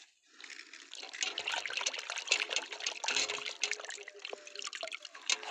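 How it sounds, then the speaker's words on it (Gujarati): Running water splashes and trickles steadily over a muddy toy lamb as it is washed clean, a close, continuous rinsing sound with small gurgles and drips throughout, no voices. "બહુ માટી ચોટી છે, આને સાફ કરી દઈએ સરસ પાણીથી"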